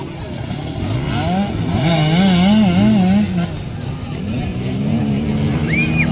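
Motorcycle engines rev and wail up and down during a race in which Zyrah Paco leads against male riders. The loud, close whine runs continuously throughout, while a commentator talks over it.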